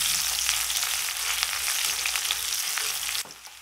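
Chopped onion and garlic fry lightly in oil in a pan, a dense, even sizzle that holds steady and close, then drops off suddenly near the end.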